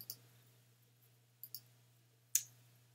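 Keys on a Mac keyboard give a few sharp, isolated clicks during a copy-and-paste, close and quiet, spaced unevenly against a low steady hum with no talking.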